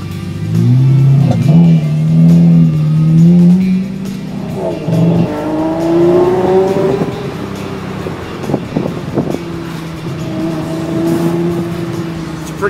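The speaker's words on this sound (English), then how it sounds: "It's a pretty unmistakable roar out of that engine." A Lamborghini engine roars loudly up close, with revs climbing and falling through several gear-like rises, plus sharp bursts of throttle and a steady drone toward the end.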